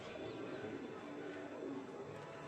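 Old-generation Kala Sabuj Giribaz pigeons coo in a low, steady murmur that continues throughout, close by, with no distinct pauses.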